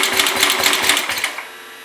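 A 1967 Sears Suburban 10 garden tractor engine cranks on its first start after repairs, giving a rapid, steady chugging rhythm for over a second before it abruptly stops. No one speaks.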